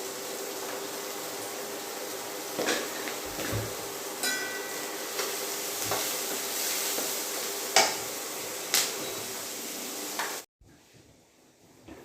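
Steady broadband sizzle of food frying in a pan, with occasional clinks and scrapes of a utensil, ending abruptly near the end.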